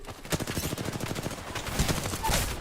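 Rapid bursts of automatic gunfire ring out in a video game shootout, close and loud, with sharp repeated shots in fast rhythm and a few heavier bangs near the end.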